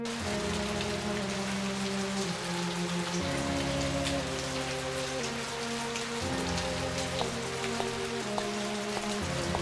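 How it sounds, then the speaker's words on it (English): Steady rain falls in the video game Agatha Christie: And Then There Were None, a constant hiss of drops under a low musical drone, with no talking. "No, it's just a drizzle. It's going to get much worse."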